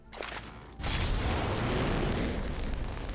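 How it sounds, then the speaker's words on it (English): A thrown Molotov cocktail bursts in the video game Quasimorph, a short pop and then a sudden loud, sustained roaring blast of fire that keeps raging with a dense crackling wash, with no talking. "I heard a big explosion, so one must assume that we just lit up the night."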